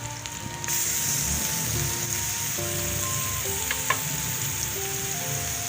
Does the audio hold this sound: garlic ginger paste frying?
yes